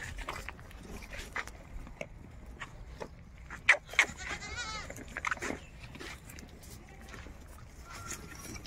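Goats bleat at a busy livestock market selling Gujari breed goats, a couple of sharp bleats rising over a constant murmur of crowd noise and scattered voices.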